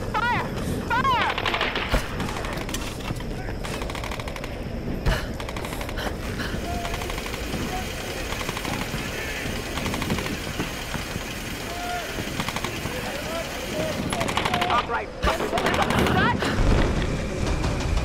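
Machine gun fire in the Tomb Raider video game, a dense continuous burst of rapid shots that runs the whole stretch, loud and close, mixed with game effects and voices talking over it.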